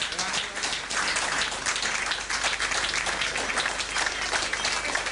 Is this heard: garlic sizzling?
no